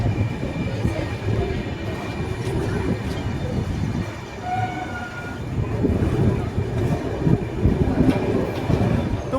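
Kanchan Kanya Express train pulling into Siliguri Junction, heard from on board as a continuous loud rumble and rattle of wheels with a faint distant tone or horn mixed in, no talk.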